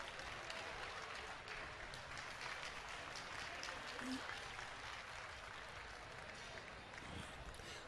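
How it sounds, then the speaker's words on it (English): Audience clapping at a Purina Pro Plan hound group dog show as Afghan hounds enter the ring, faint steady applause from a distant arena crowd with a general murmur of voices. "Give a clap to the dogs when they come in, the Afghan hound."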